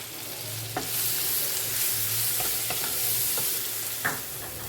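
Capsicum and carrot sizzling in butter and oil in a pan, a steady frying hiss broken by a few sharp stirring clacks, no voices.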